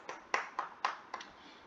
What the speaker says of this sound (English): Alright, clap for yourself